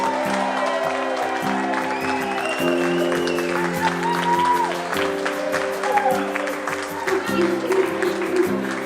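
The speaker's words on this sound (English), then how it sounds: "can we give a round of applause, a big thank you to our hosts" A crowd applauding steadily throughout at a wedding reception, with some cheering, over a background of music and voices.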